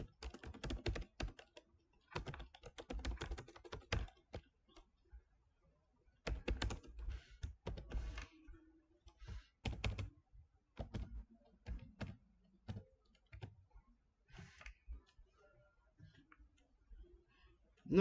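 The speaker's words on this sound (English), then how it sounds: "I'll type certificate of achievement" Computer keyboard typing text for a certificate in Microsoft Word 2016: close, irregular bursts of quick key clicks separated by short pauses, with no talking.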